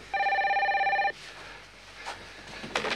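A telephone bell rings loudly in one steady burst lasting about a second, then stops, leaving quiet indoor room tone with a few faint rustles.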